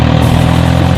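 Two tractors tied together and driven with engines running, a loud steady engine roar held close throughout.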